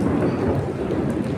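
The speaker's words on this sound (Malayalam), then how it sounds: "ഇടിയൊടുങ്ങും." Thunder rolls as a continuous low, loud rumble during a sudden rain, with a faint patter of drops over the brief stretch.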